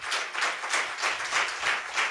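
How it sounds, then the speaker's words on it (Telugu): A church congregation at Gethsemane Prayer Reformed Church in Bangalore claps in a steady, even rhythm, with bursts of unified applause repeating every fraction of a second, close and continuous. "గట్టిగా చప్పట్లు కొడదాం"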